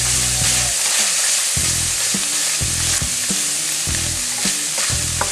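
Greasy meat browns in a pan for a queso mac and cheese, giving off a loud, continuous sizzle and crackle with steady stirring scrapes throughout.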